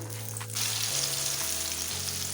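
A date omelette fries steadily in a pan over a medium flame, giving a constant close sizzle that runs unbroken from start to finish with no talking.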